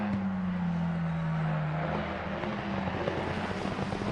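Mustang GT3 race car in Assetto Corsa Competizione, engine droning loud and steady with a falling pitch sweep, then rougher revving under continuous race noise.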